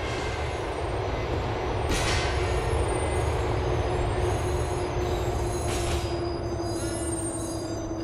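Steel wheels squeal steadily on a Liberty City elevated train in Grand Theft Auto IV, riding the J/3 Algonquin Outer Line, with a continuous rumbling roll and a couple of sharper screeches rising briefly over the drone.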